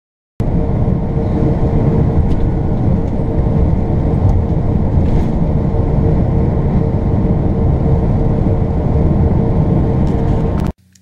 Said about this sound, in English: I was pretty sure that I was having a bearing start to go bad.